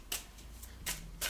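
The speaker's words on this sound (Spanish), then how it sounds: "Las tenéis que barajar" A deck of cards for the Radlands tabletop game is shuffled in quick riffling bursts, close and fairly quiet, three short rustling flurries with brief pauses between them and no talking.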